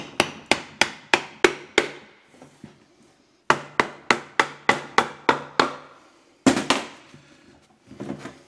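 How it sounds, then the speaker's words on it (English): A big hammer pounds on parts of a Toyota E154F gearbox during a strip-down, in two quick runs of six or seven loud, sharp metallic blows with brief ringing, then a few heavier strikes, close up with no talk. "this can only be solved with the correct application of a much bigger hammer"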